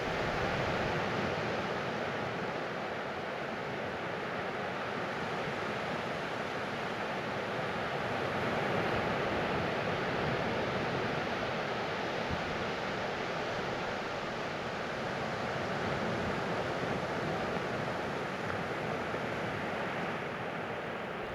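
Gentle ocean waves wash in a soft, steady, continuous surge with no distinct breaks, an even hush with no voices over it.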